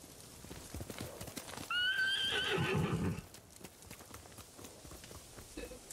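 A samurai's horse in the Ghost of Tsushima video game gives a loud, close whinny in the middle of soft, steady clip-clopping hoofbeats as it runs up.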